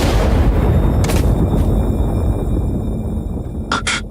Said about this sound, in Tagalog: Tinamaan siya ng kidlat.